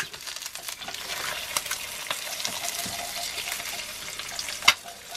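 Eggs frying in a pan for a full English breakfast give a steady, close crackling sizzle throughout, with a sharp clink near the end.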